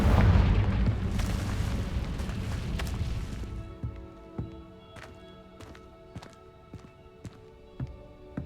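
A Confringo blasting curse in Hogwarts Legacy lets off a loud booming explosion that rumbles and decays for several seconds, followed by a scattering of sharp clicks and thuds.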